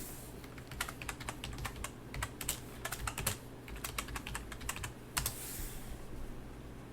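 Rapid keystrokes clatter on a computer keyboard for a Google search, quick irregular bursts of close clicks with a short pause near the end.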